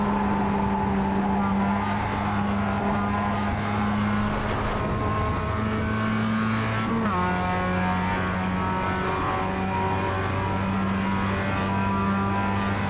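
Onboard engine sound from a Mazda MX-5 race car in sim racing at Circuit de Barcelona-Catalunya, a loud continuous buzzing drone that rises and falls in pitch through gear changes, with no talk over it.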